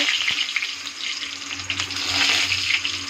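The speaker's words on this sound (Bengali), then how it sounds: "তেলটা গরম হয়ে গেছে, একটা শুকনো লঙ্কা দিব, কারি পাত্তা দিয়ে দেবো" Dried chili and curry leaves dropped into hot oil, a bright crackling sizzle that swells toward the end, close and continuous with no talking.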